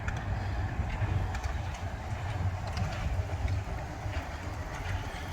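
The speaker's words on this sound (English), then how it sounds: "the monorail." Alton Towers monorail train running on its circuit round the park, a steady broadband rumble with faint clickety-clack, continuous and fairly close throughout, with no talk.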